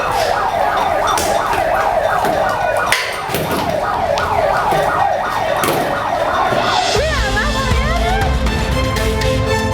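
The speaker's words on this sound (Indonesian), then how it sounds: "5 unit mobil damkar dikerahkan ke lokasi untuk memadamkan api." Fire truck sirens head to a petrol station fire, a loud wailing siren cycling rapidly and then switching to a slower warbling tone. Road traffic noise sits underneath.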